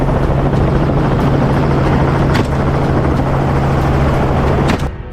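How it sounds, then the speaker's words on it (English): A helicopter flies low over dense cover while flushing wild pigs, its rotor thrum steady and loud throughout before cutting off abruptly near the end. "the pilot expertly navigates the helicopter to flush wild pigs from dense cover"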